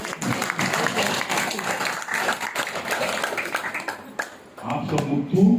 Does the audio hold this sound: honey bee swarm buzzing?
no